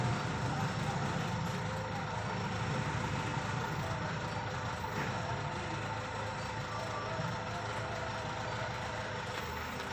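A recently overhauled diesel engine with a badly faulty exhaust runs steadily and loudly up close, a continuous rough drone with no speech.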